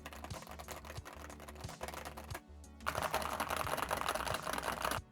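Rapid keystrokes on a Wooting 80HE magnetic gaming keyboard in a standard Cherry-style layout, a dense steady clatter of close clicks with a brief pause midway, no talking.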